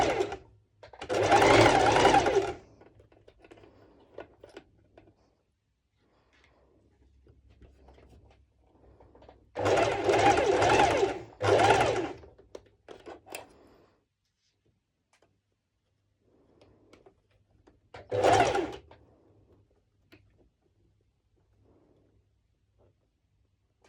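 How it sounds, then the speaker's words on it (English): A sewing machine runs a long straight stitch through slippery bikini fabric at an unhurried pace, in three separate bursts of steady whirring: a long one, then two close together, then a short final run, with quiet gaps between. "It's a normal straight stitch with the highest stitch length."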